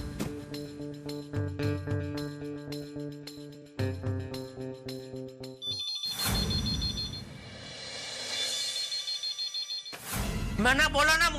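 A telephone rings in a repeated electronic pattern of bursts over a tonal musical background in a Hindi TV sitcom scene, followed by other clattering sounds and louder tonal bursts near the end.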